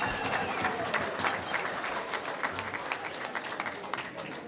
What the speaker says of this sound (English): Give yourselves a round of applause tonight